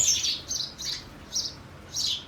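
Sparrows give about five short, high chirps in an uneven rhythm, fairly faint and at a moderate distance against a quiet background with no talking.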